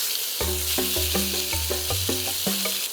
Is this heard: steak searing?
yes